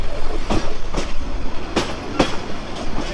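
A long Lalmoni Express train pulls out of Santahar railway station, its wheels clacking over rail joints in a loud, steady rumble with evenly spaced clicks heard from on board.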